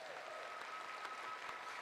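Audience applause for the councillors at the Think Indigenous 2026 gathering: a steady wash of clapping, fairly faint and distant, lasting a couple of seconds without talk.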